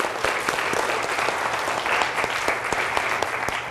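A school audience applauds the grandparents who help children read: dense, steady clapping from many hands, loud and sustained throughout with no talk on top.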